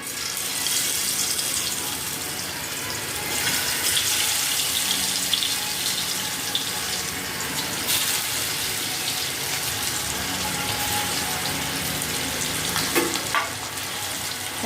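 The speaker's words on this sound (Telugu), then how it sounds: "ఇప్పుడు కడాయిలో వేపుకు తగ్గట్టు ఆయిల్ వేసేసి దాంట్లో ఈ పీసెస్ని వేయించుకోవాలి." Vegetable pieces fry in oil in a kadai for a veg thotakura fry, giving a continuous, even hiss and sizzle that holds steady throughout at close range, with no talking.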